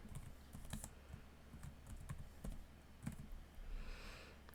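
Computer keyboard typing while a place name is entered into a mapping program's search bar: a steady run of light, quiet key clicks, close and alone with no talk.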